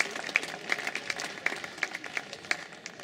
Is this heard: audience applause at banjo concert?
yes